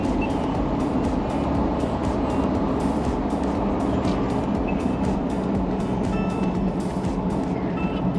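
Steady interior road noise from a car cruising along, with a continuous rumble and faint repeating ticks, no talking.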